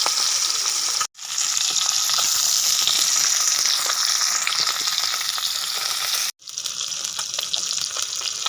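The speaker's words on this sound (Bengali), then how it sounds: "মাছগুলো উল্টে পাল্টে লাল লাল করে ভেজে নেব।" Koi fish fry in hot mustard oil in a wok, giving a loud, continuous close sizzle broken by two brief cuts.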